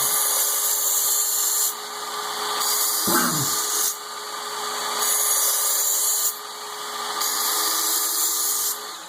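Steady grinding hiss of a Work Sharp Ken Onion belt sharpener running continuously, with a knife blade drawn across the abrasive belt in repeated passes of a few seconds each, close and fairly loud.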